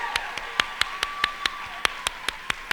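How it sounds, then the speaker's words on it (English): A live audience claps for three early education finalists at a teachers' awards event, producing a sparse, uneven patter of individual hand claps rather than a full ovation, fairly soft and not close up. "let's give our 3 early education finalists one more round of applause"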